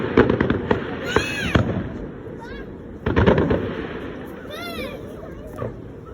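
Distant firework display with several bursts of booming explosions and whistling shells rising, crackling at intervals over a steady outdoor background; people talk nearby.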